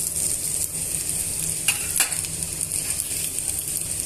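Chopped onions and cumin seeds fry in hot oil, giving a steady close sizzle with occasional scraping stirs and light clicks of a utensil against the pan.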